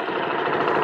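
A Honda Shine 100 motorcycle engine idles with a quiet, even, steady hum, heard close and alone for under a second.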